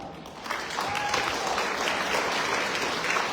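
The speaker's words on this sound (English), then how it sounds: "please give a big round of applause to Tony La." Audience applause fills a concert hall at a traditional Vietnamese music and painting event, a steady wash of many hands clapping that holds at an even level throughout.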